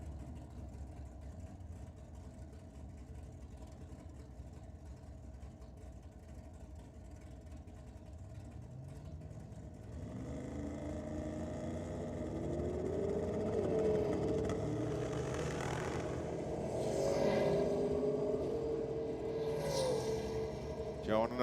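A WB turbo ute makes a drag racing pass at a Sydney night drag and burnout meet. A quiet, distant engine drone swells after about ten seconds into a louder revving run with rising tones that climb with each gear change.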